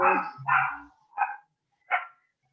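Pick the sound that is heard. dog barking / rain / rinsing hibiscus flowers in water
dog barking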